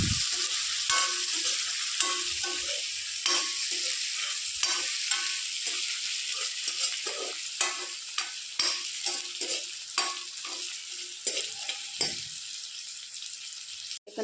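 Chopped onions and tomatoes sizzle in a pan while a utensil scrapes and stirs in repeated strokes, close and moderately loud, with no voices.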